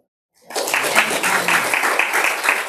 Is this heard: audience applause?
yes